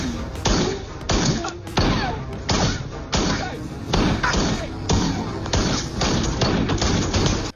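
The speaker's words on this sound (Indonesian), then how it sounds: "Setelah 10 tembakan, kaca anti peluru berlubang." Rapid gunshots fired repeatedly at one spot on a car's bulletproof windscreen, about ten sharp loud thuds in a fast irregular burst, each cracking against the glass with little pause between them.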